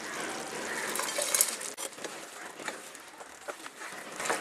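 Fried cauliflower being stirred into thick gravy in a pan for chilli gobi manchurian makes a close, bubbly sizzle with wet scraping and squelching from the spoon, loud and uneven.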